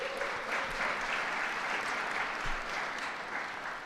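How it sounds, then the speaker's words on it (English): A crowd claps at a celebration event for a city poet laureate, a continuous even wash of applause lasting a few seconds, fairly close and without talk. "Let's give them a round of applause."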